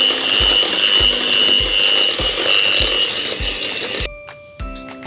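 An electric mixer beats a mashed potato filling with celery leaves for Danish pastry, giving a loud, close motor whirr with rhythmic clunking that cuts off near the end, followed by a brief mechanical rattle.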